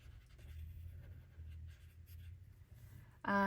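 Marker or pencil coloring on paper for a fall pumpkin-patch scrapbook layout, soft repeated scratchy strokes in short bursts, faint and close, ending with a brief louder tonal sound.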